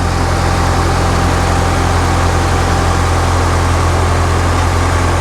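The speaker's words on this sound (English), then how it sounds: "All right, it's running, and I'm not hearing any exhaust leaks." A Toyota GR86 idles steadily just after a new header install, a constant low engine hum with a faint exhaust tone holding even and unbroken throughout, with no voices.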